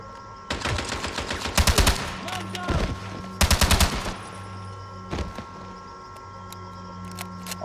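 Gunfire in 007 Blood Stone: two rapid automatic bursts of closely spaced shots, loud and near, with a few scattered single shots and a steady background hum.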